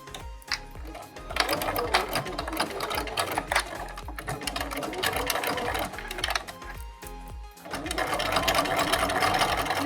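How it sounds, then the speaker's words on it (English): A sewing machine runs in fast bursts of rapid mechanical stitching as it sews a fabric mask with a quarter-inch seam, pausing briefly between runs, close and fairly quiet. "I'm gonna begin sewing with a 1/4-inch seam allowance"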